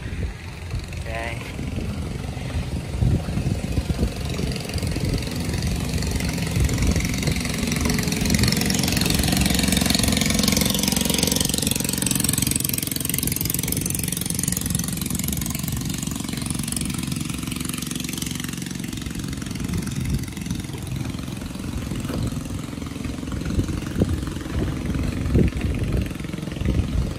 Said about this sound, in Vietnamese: Test thử con Honda nha anh em.